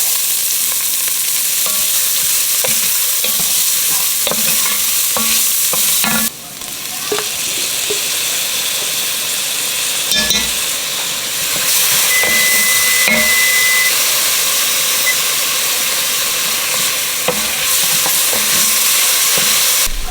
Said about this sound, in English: Now we're going to saute these onions